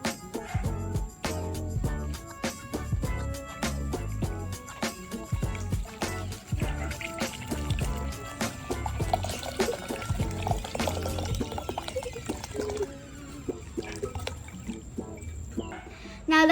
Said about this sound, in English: I'm gonna pour the water into this bowl